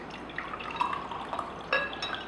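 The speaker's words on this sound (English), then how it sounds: "I'm going to use a bottle of oil, which is sesame oil. I'm going to actually put some oil here." Sesame oil poured from a bottle into a container of water, giving soft scattered drips and splashes that build to a brief trickle, close and fairly quiet over a faint background hiss.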